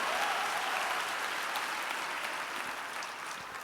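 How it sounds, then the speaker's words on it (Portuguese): Church congregation applauding together during an evening worship service, a steady, dense wash of clapping hands that fills the room and holds at an even level throughout, with no voices standing out. "Você pode aplaudir o Senhor"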